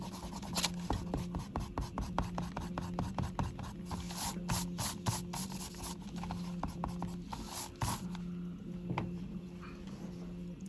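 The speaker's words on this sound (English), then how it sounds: "I'm just going to take an eraser and get rid of any extra pencil marks." Eraser scrubbing pencil marks off paper, a close, steady run of quick rasping rubs in rapid back-and-forth strokes, pausing briefly near the end.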